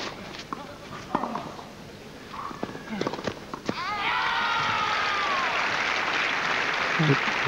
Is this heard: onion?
no